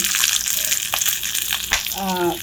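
Garlic frying in a pan on a home stove: a steady, close sizzling hiss runs throughout, with a few brief stirring clinks and a light tonal scrape near the end.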